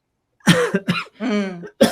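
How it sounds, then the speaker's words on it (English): A few harsh coughs in quick succession, close and loud, with short silent gaps between them. "Sorry, I've got a cough."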